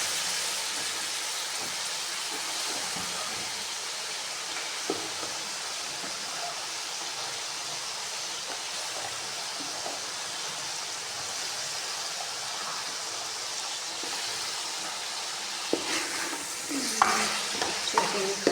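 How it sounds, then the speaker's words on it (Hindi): Potato and eggplant pieces tossed into a hot pan of oil for aloo baingan sabzi, giving a steady, fairly loud sizzle with spoon stirring scrapes and clatters growing busier toward the end. "ये हम इसमें डालेंगे अब आलू बैंगन।"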